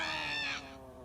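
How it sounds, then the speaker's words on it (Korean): A black cat in the animated film Coraline lets out a single loud, harmonic meow-like yowl that startles a girl, fading after about half a second into a quieter tonal tail. "그러다 검은 고양이가 놀래키더니"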